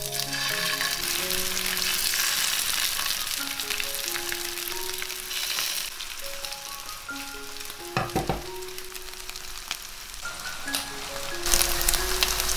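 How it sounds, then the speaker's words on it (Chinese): Chicken breast and vegetable patties fry in hot oil in a flat pan with a steady, dense sizzle and crackle that runs continuously under soft background music. "平底锅热油，把鸡肉饼放进来煎。"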